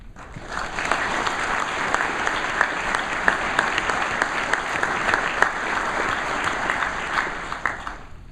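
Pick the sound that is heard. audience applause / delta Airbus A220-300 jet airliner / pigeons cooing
audience applause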